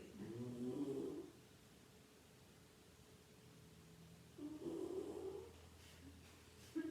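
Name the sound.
beagle dog snoring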